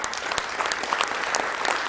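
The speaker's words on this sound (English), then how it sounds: "Round of applause for PJ" Audience applause for a finished Battletoads arcade speedrun at a charity gaming marathon event, a steady dense clapping of a large crowd filling the whole moment without a break.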